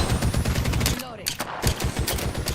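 Loud volleys of automatic video game gunfire rattle in quick repeated bursts, breaking off briefly in the middle before the rapid shooting resumes.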